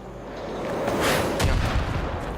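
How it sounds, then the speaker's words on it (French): A rocket blast in the video game Far Cry 5 rolls in as a heavy, rumbling boom that swells over about a second, followed by a crackling low-end tail; loud and close, with no talking. "c'était une roquette ça."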